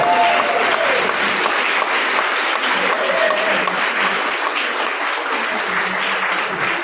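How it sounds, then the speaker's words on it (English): Steady crowd applause fills the room at a poetry slam championship final, loud and continuous, with a few voices calling out faintly beneath the clapping. "Give him a round of applause on the hill."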